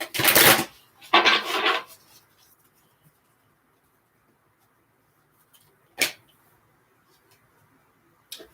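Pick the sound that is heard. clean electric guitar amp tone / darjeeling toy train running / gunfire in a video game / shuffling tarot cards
shuffling tarot cards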